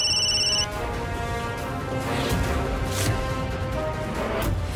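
A telephone bell rings in a short, bright burst at the start, then gives way to indistinct indoor background noise with scattered knocks and rustles.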